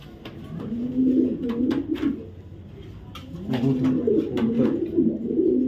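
Racing pigeons cooing in low, rolling murmurs, several birds overlapping in two bursts, with occasional sharp clicks and scuffles nearby.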